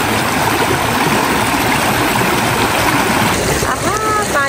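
A flowing river stream on a cold winter outdoor outing, a loud continuous rushing wash of water filling the whole moment, steady and close.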